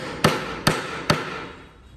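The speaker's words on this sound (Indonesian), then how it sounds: "Untungnya buat masang paku-paku udah ada alat tembaknya, jadi nggak perlu satu persatu pakai palu, pakai manual." A handheld nail gun fires nails into wooden framing during a minimalist campervan build in China; three sharp, loud shots land at an even pace about half a second apart, with no talk.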